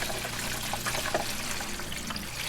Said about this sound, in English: Replenish both washer and coolant fluids to their specified levels.